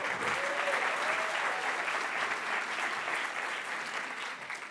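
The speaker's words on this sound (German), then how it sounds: "Applaus." Sustained audience applause at a science slam, dense and even clapping from a crowd in a hall that continues steadily and eases off slightly toward the end.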